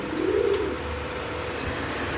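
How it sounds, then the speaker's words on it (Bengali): Gorra pigeons cooing, a soft low rolling coo near the start over a steady background hum, no talk. "এখানে আরেকগুলো আছে আপনার গররা কবুতর"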